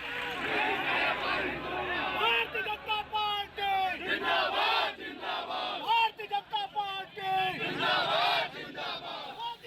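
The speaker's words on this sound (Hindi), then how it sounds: "राहुल गांधी वापस जाओ के नारे लगाने लगे।" A crowd of BJP workers chanting slogans at a street protest in Raebareli, loud rhythmic shouted chants rising and falling, with overlapping voices and general commotion throughout.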